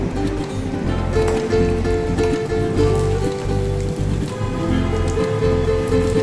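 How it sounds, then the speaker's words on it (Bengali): Capsicum corn malpoya fry in hot oil until brown, giving a steady, dense sizzle and crackle close by that carries on for several seconds with a faint low hum underneath. "এরকমভাবে লালচে করে ব্রাউন করে ভেজে নিতে হবে।"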